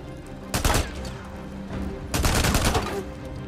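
A gun in the video game Days Gone fires two loud, close bursts of rapid shots separated by a short pause, each burst crackling densely for about a second.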